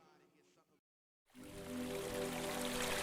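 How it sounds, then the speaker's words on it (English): A spring-fed mountain creek flows in a steady, close rush of water that swells in after a short silence, following a moment of quiet talk at the start. "This is a mountain sourcing spring creek, so it comes out on our property right from the mountain."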